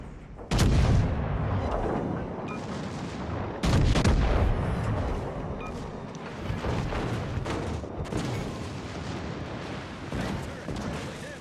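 Heavy ship guns boom in a naval combat video game, two big blasts near the start and around four seconds, followed by continued rumbling cannon fire and explosions.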